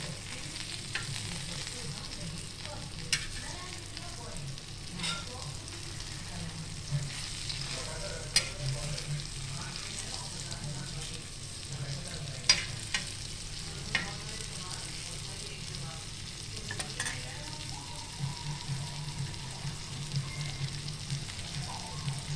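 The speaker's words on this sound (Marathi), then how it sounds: "दुसऱ्या साईडून पण आपण तशीच सेम फ्राय करून घेऊया" Bombay duck (bombil) fish frying on its second side over medium gas, a continuous moderate sizzle with scattered crackles and occasional spatter pops, alone without talk.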